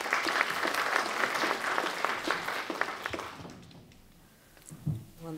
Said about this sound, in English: So please join me in a round of applause for Svitlana.